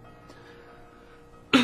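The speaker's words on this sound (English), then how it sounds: "I coughed a little bit" A man with a sore throat gives a single short, sharp cough at the end after quiet room tone.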